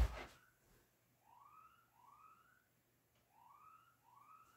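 A timer alarm gives a siren-like electronic wail in a bedroom, rising tones repeating in a steady pattern of two pairs separated by a short gap, faint and distant with no talking.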